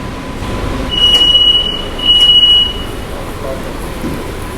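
A Chennai Beach–Chengalpattu AC local electric train runs with a loud, steady rumble, and two drawn-out high wheel squeals rise above it.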